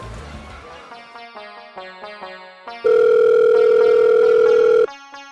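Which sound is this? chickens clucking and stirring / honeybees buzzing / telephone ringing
telephone ringing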